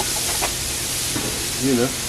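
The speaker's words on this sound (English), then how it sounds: "isn't that a wonderful sound? Sizzling." Brief crackling sizzle of food cooking on a hot grill, with a short vocal sound near the end.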